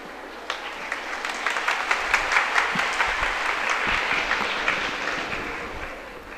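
A large event audience breaks into sustained, dense applause that swells in the middle and holds steady, with no speech over it.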